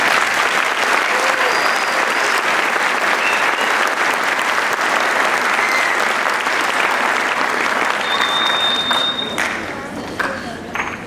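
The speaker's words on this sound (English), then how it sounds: "Would you please give them a round of applause?" Full-room applause for junior high and high school honor choir members, dense steady clapping throughout that tapers off near the end, with a few scattered voices and whoops.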